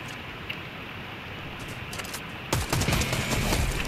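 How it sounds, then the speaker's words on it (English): A new gun fires in a battle royale video game: after a quiet stretch of low game ambience, a sudden burst of rapid shots breaks out and carries loudly to the end. "I'm gonna try my new gun."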